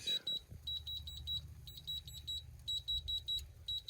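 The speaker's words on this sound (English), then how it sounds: "Good old alarm going off again." A barbecue smoker's temperature alarm beeps in rapid repeated high-pitched bursts during a brisket cook on an Old Country Brazos offset smoker, steady and fairly close with a low background hum.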